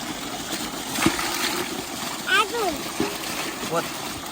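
Water splashes and sloshes a few times from buckets being filled or tipped, against a steady background with voices nearby.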